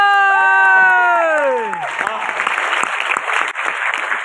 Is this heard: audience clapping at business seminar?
yes